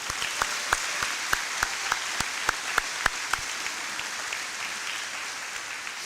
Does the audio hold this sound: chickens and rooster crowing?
no